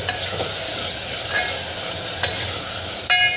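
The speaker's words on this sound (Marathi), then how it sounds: "हे छान मिक्स करून घ्यायचं आपल्याला।" Spoon stirring salt into dal and spinach cooking in a pan, a steady sizzle with occasional scraping clinks of the spoon against the pot, close and continuous without speech.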